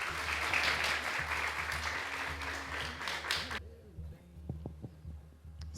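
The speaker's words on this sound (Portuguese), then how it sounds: "Palmas para nós." An audience claps and cheers loudly for a few seconds before the applause cuts off abruptly, leaving a quiet room with a few scattered sharp knocks.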